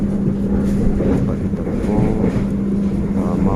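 Passenger train on the Bandung to Jakarta line, a steady loud rumble of the carriage rolling along with a constant low hum and some wind, no breaks in the noise.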